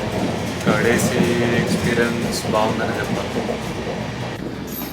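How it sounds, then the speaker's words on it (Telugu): Tuticorin Express running with Humsafar coaches, its steady rail rumble rolling on beneath a person talking throughout. "ఇది ట్యూటికోరిన్ ఎక్స్ప్రెస్సే, కానీ హంసఫర్ కోచెస్ వేసాడు"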